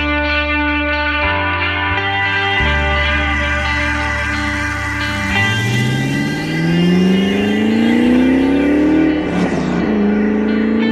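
A Porsche 928 V8 engine revs loudly and close, a rough, distorted drone that climbs in pitch, surges and sweeps up and down near the end, with no voices over it.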